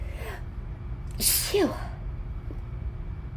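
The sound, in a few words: sneeze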